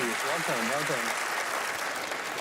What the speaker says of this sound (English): Everyone give Teller and Allison a great big round of applause.